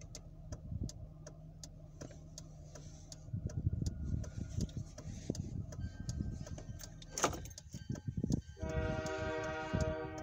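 An approaching mixed freight train rumbles steadily under a ticking crossing bell, growing louder, with a brief horn-like blast and rising metallic ringing near the end.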